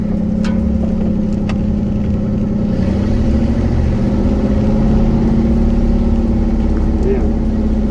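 A car engine held steady around 4,000 RPM with the throttle barely touched, a continuous close mid-pitched drone that rises slightly partway through, with a voice speaking over it.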